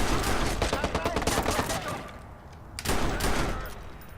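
Rapid automatic gunfire in the Watch Dogs video game rattles in a dense, loud burst, pauses briefly, then resumes in a second volley of shots.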